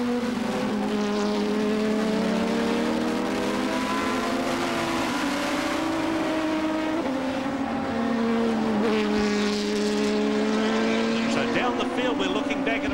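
A Formula Holden race car at Ruapuna, heard onboard, holds a loud sustained engine howl that rises and falls through the gears into a left-hand corner, with a commentator's voice over the top.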